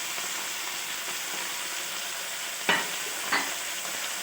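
Spices, capsicum and soy sauce for chicken jalfrezi fry in a hot pan with a steady, close sizzle, while a spoon stirs and scrapes and two sharp knocks land near the end.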